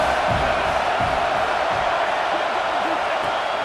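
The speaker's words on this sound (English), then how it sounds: "Big 3rd down as the crowd gets behind this defense." Stadium crowd roaring in the EA Sports College Football 26 video game, Maryland at Washington, a steady dense wash of cheering that holds through the whole stretch with a commentator's voice talking over it.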